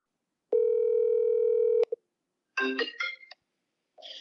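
A phone call being placed: a steady, loud dial tone holds for over a second, followed by a short burst of rapid dialing beeps and then an electronic ringing tone, with nothing else audible.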